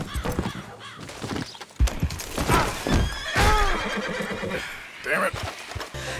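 A horse in the Red Dead Redemption 2 video game whinnies several times over clip-clopping hooves, loud and close, while someone talks over it and a crow caws faintly.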